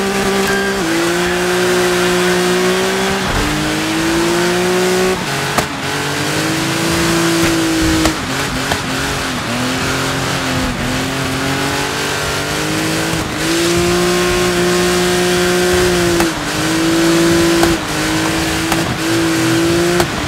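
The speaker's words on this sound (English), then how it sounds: "Another Dirt Off-Road Series race about to get underway." Off-road race cars rev loudly in the Dirt 5 video game, with engines holding steady high drones that rise and fall as they shift through gears, close and continuous for the whole stretch with no talking.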